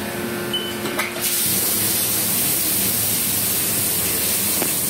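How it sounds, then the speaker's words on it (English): Coolant blasting from the programmable nozzle of a 2014 Haas VF-6SS four-axis CNC vertical mill, a steady loud broadband hiss that jumps up after a second and then holds evenly to the end, with no talking. "it blows out pretty strong. It's programmable coolant."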